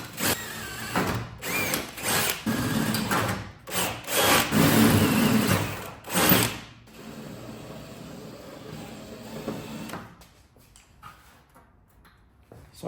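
A power drill bores holes in a Toyota Celica body panel, whining in several uneven bursts for about eight seconds, then quieter rattling handling noises, close and moderately loud.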